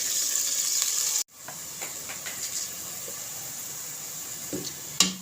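Chopped onions for masoor dal frying in hot oil in a pan, a steady close hiss and sizzle that cuts out briefly, then returns with light stirring clicks and a scrape near the end.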